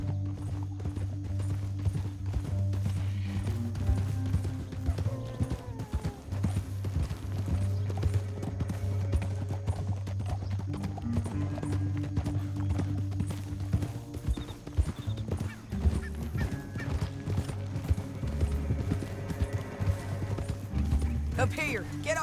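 Steady clip-clop of galloping horse hooves in Red Dead Redemption 2 runs throughout over a droning music score, with voices speaking intermittently on top.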